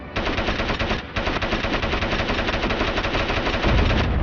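Turret machine gun in the video game Crysis fires in a dense, unbroken stream of rapid shots. A short break comes about a second in, then the loud fire continues to the end.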